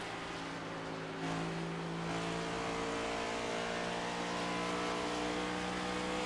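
A simulated NextGen race car engine at Kentucky in iRacing drones loudly and continuously, its pitch climbing slightly as it revs, with no talking.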